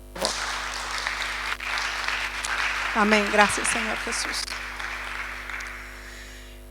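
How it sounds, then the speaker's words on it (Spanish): A church congregation breaks into applause for a couple during a Spanish-language worship service, a steady wash of clapping that swells midway and lingers under a man's spoken prayerful words. "Un aplauso para esta pareja, por favor"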